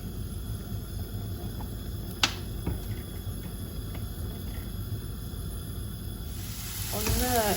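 Chopped ginger, garlic and green chilies fry in hot oil, a steady low sizzle with a sharp clack near the start and the hiss swelling louder toward the end.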